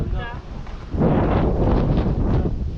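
Cool wind sweeps across a hilltop on the Gownalli Hills trek, buffeting the microphone in a loud, rough gust after a brief voiced sound at the start.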